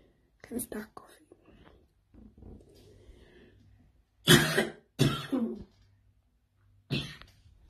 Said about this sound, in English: Can start coughing.